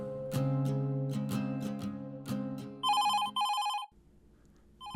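A phone rings with an incoming call, a melodic ringtone of chiming notes followed by a brighter repeated electronic trill, close and fairly quiet, with no talking.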